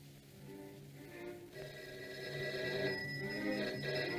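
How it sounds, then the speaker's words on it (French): An old-style telephone bell rings in a 1959 French drama film, a steady mechanical ring that grows slightly louder and continues without a break, faint in the background with no voices over it. "J'attends que le téléphone commence à sonner."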